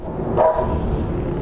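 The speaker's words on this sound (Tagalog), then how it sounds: "Uy, ang daming aso." A dog barks once, fairly close and loud, amid several dogs in a residential street where a delivery rider stops at a house; short, sharp bark over background noise.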